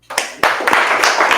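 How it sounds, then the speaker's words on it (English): A live audience at a real estate business talk breaks into clapping, a few sharp separate claps quickly thickening into brief close applause. "You can clap that shit up."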